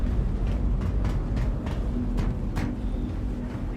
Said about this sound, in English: We're going to hop the train to the spaceport